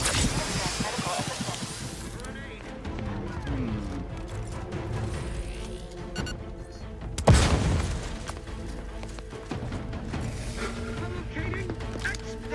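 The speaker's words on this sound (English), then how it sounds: "Locating explosion!" An explosion in The Outer Worlds 2 video game lands as a sudden heavy boom partway through, set among ongoing gunfire, game effects and in-game voices.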